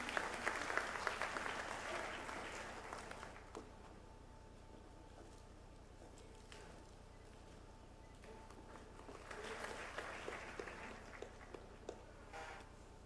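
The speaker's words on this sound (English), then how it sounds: "A big round of applause," Audience applause at a university induction ceremony, a dense burst of clapping at the start that fades into low room noise, then a second, quieter wave of clapping near the end.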